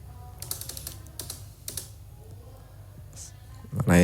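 Numbers keyed into a calculator for a subtraction, several quick light taps in small clusters, close and fairly quiet, followed by a voice starting at the very end.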